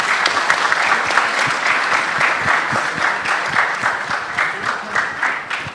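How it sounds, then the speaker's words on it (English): An audience at a media and entertainment industry event claps in a round of applause, moderately dense and steady, thinning slightly toward the end. "So a round of applause for them."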